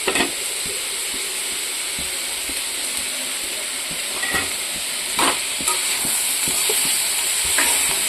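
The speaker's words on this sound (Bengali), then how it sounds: "কোয়াশটা একটু পেঁয়াজের সাথে ভাজা ভাজা করে নেব।" Squash and onion fry in a pan, a continuous loud sizzle and hiss punctuated by several sharp clinks and scrapes as the mixture is stirred, with no voices.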